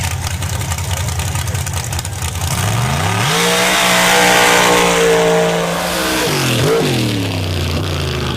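A drag racing car at a Missouri MRA championship round makes a pass down the track, its loud engine note climbing in pitch through a sustained run, dipping briefly and then surging again.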